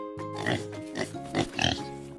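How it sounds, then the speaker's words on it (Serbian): A pig grunts and snorts several times in quick succession, close and fairly clear, with no talk over it. "Svinja grokće."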